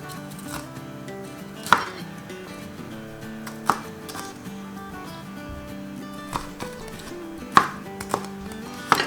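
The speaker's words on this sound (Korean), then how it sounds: "파프리카도 호박처럼 큼직큼직하게 썰어주세요" Bell peppers being chopped into large chunks on a cutting board, with a few sharp, spaced knife strikes landing close and loud over a quiet background.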